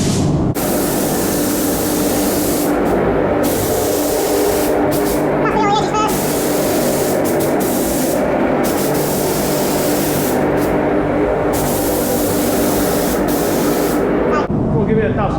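Black paint hisses from an aerosol can onto an RC car shell in loud, sustained bursts separated by short pauses, the spray close and harsh throughout.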